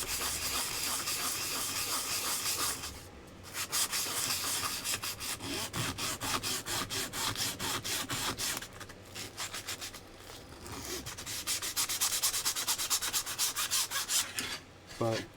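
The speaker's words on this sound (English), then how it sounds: "Bit of sanding." Hand sanding of wooden pieces, a steady dry rubbing rasp with repeated back-and-forth strokes running almost continuously, pausing briefly a couple of times, close and fairly loud.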